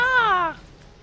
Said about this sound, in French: c'est des chats, tu vois, c'est les femelles des chats